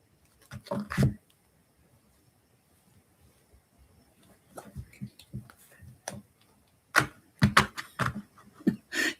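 Tarot cards are shuffled in bursts, with crisp riffling flutters and slaps separated by pauses, close up in a quiet room.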